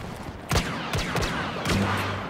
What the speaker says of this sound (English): I'm shooting us with the blaster cannon down over there